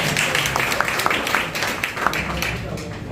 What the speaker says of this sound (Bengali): কেউ একজন হাততালি দিতে চাচ্ছে।